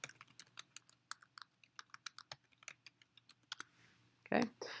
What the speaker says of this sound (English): He'd type it again.